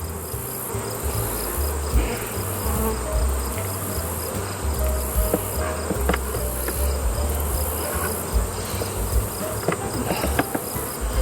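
A steady insect buzz hums close by at a hive, many honey bees droning together with a constant background hiss and occasional faint knocks.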